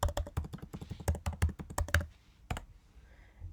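A computer keyboard is typed on rapidly and close up as a library card number is entered, a dense run of clicking keystrokes followed by a pause and one last firm key press, with no voices.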